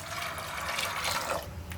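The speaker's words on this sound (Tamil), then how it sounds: "இதை வேக வைக்கிறதுக்கு இது முழுகிற அளவுக்கு தண்ணி ஊற்றிக்கலாம்" Water pours steadily and close into a pot of soaked field beans set to boil, a continuous gushing splash lasting the whole short moment with no talking.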